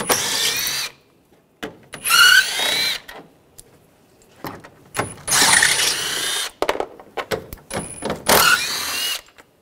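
A power tool with a 10 mm socket backs bolts out of the lower grille cover on a 2013–2016 Dodge Dart, in four loud whirring bursts separated by quieter gaps with small clicks.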